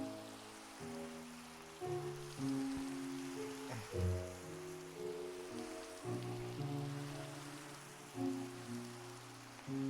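Steady rain in the video game Minecraft hisses softly and evenly throughout, with layered tonal game music playing over it.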